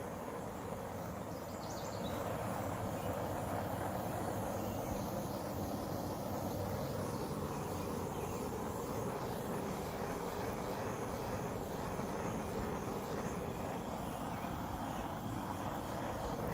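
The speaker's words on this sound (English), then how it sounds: "before I spin, I'm going to torch to help the silicone rise and create the cells" A torch flame plays across an acrylic paint pour to make silicone rise into cells, a steady broad roaring hiss that starts after a quiet first two seconds and holds evenly and close throughout.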